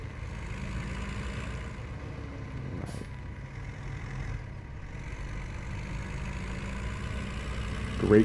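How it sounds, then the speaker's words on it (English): A tractor engine in the farming game Farming Simulator 17 runs at a steady low rumble, droning evenly throughout with a faint hiss partway in and no voices. "Great sound in this tractor."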